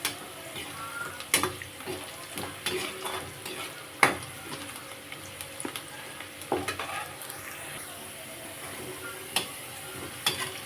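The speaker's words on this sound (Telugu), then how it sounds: "ఆనియన్స్ కొంచెం రెడ్గా వేగాలి ఫ్రెండ్స్" Onions frying in a pan give a soft, steady sizzle, broken by occasional spoon taps and stirring scrapes, close but fairly quiet.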